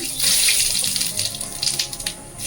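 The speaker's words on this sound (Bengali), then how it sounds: "এবার আমি দিচ্ছি জিরে ফোড়ন" Cumin seeds sizzling in hot oil as a tempering for a Bengali chital fish curry, a steady bright hiss and crackle that fills the clip close by, with no talk over it.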